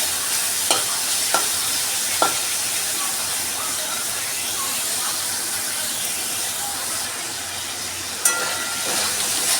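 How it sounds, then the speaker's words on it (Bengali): Chicken mince frying in a pan over medium heat: a constant loud hissing sizzle with occasional sharp spatula scrapes against the pan, close up and without speech. "মাঝারি আছে আমি কিমাটাকে ভেজে নিচ্ছি"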